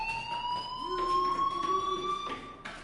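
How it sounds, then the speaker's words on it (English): A fire alarm rings in the Life is Strange video game, a steady electronic tone with pulsing bursts, sounding alone and fairly loud. "do you hear that fire alarm?"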